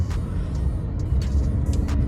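An Audi A6 C7 S-Line engine hums low and steady during driving, with road rumble and a few faint clicks and knocks.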